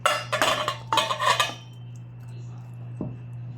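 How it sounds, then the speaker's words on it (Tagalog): Pork for crispy kare-kare is put into a bowl, and a utensil clinks and scrapes against the dish in a quick series of close clatters before everything falls quiet over a steady low hum, with one more soft knock near the end. "So, sa bowl, lalagay natin yung pork."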